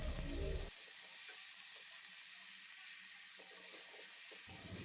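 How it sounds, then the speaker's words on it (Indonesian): Spice paste for sambal oncom sautéing in a pan, a soft steady sizzle running throughout with a brief louder stir or scrape at the start and end, no talking. "kemudian kita tumis."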